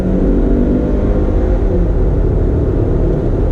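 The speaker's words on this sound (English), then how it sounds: "Let me go ahead and get on the gas a little bit." 2019 Hyundai Tucson Limited engine accelerating under throttle, a steady loud low rumble and whir heard from inside the SUV with no talk.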